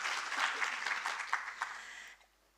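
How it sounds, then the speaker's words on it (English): An audience at a university community engagement event claps in a steady wash of applause that gradually thins and fades toward the end, with no voices over it. "please give yourselves a wonderful applause for your contribution"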